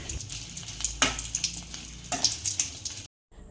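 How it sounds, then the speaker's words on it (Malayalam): Dried red chillies frying in hot oil for a Kerala mackerel curry, giving a steady close sizzle with a few sharper crackles and stirring scrapes, ending in a brief cut to silence. "അതിലേക്ക് വറ്റൽമുളക് ഇട്ടൊന്ന് വറുത്തെടുക്കുവാണ്"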